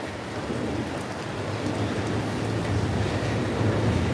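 Rain falls on a Tokyo street in a market district, a dense, steady hiss with a low rumbling undertone that never lets up across the few seconds.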